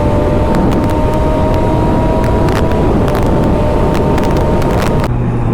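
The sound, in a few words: Triumph Daytona 675 motorcycle engine at max throttle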